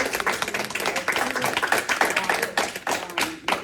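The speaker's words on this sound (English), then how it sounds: "So we want to give them a round of applause for the work that they did." Scattered clapping from a small audience at a school board meeting, uneven bursts of handclaps rising and falling, with a few voices mixed in.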